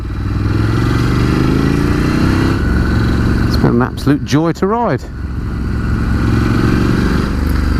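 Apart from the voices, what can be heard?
Ducati Scrambler 1100 motorcycle engine and exhaust note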